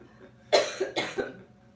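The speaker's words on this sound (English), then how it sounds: "I'm going to start coughing." Two harsh coughs close up, each followed by a smaller catch, over a quiet background.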